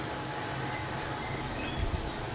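Chopped onions fry in oil over high heat, giving a continuous hissing sizzle at an even level with a faint bubbling underneath.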